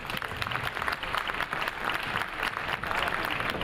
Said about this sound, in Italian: accompagniamoli con questo bellissimo applauso